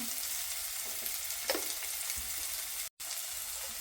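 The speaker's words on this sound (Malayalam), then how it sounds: "പതുക്കെ ഒന്ന് വഴണ്ട് വരട്ടെ കേട്ടോ." Ingredients for a Kerala coconut-milk fish curry sauté in a pan, a steady close sizzle and hiss with a few soft stirring scrapes and a brief dropout near the end, no voices.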